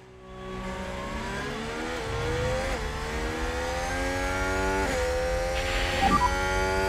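A McLaren Formula 1 car in the F1 Manager 2022 racing game drones at high revs through an overtake, its engine note holding a steady rising whine that climbs gradually, with a faint background hum and no talking.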